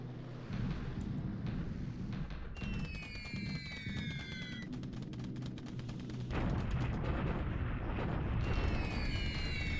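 Bombing explosions in the video game War in the Pacific give a dense, continuous rumbling roar with rapid crackling bursts, overlaid at times by sliding whistling tones, loud and unbroken throughout.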